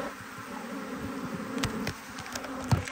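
Honey bees swarm around an opened beehive during a honey harvest, a dense, steady buzzing close by with a few louder individual bees passing near.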